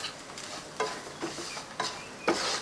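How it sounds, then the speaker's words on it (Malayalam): Semolina and grated coconut stirred in a pan, with a few soft scraping strokes spaced about half a second apart over a faint background hiss. "ഇപ്പോൾ ഒരു രണ്ട് മൂന്ന് മിനിറ്റ് ഒന്ന് ഇതേപോലെ ഒന്ന് ഇളക്കി കൊടുക്കുക"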